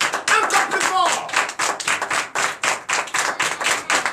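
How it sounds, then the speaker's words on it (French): A congregation at a Sunday church service in Benin claps loudly and in a steady rhythm, with sharp, evenly spaced claps filling the space and faint voices beneath them. "je vous demande d'applaudir très fort ta décision ce matin"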